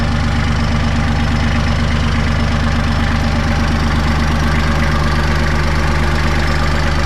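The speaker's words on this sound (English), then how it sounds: "So we got the Kubota, the L3800." A Kubota L3800 compact tractor with hydrostatic transmission idles steadily at a roof repair site, its diesel knocking in an even, loud, close rhythm throughout with no talk.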